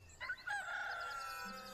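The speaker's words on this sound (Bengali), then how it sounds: "মোরগ ডাকতে আছে।" A rooster crows once in a single drawn-out call, fairly close and clear against a quiet background, with no talking over it.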